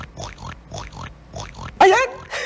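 A pig oinks in a regular series of four nasal grunts, close and fairly loud, followed by a sharper squeal-like burst and noisy rustle at the end.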